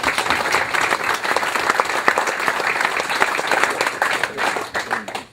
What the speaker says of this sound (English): let's give them a big hand of applause for the people who were drafted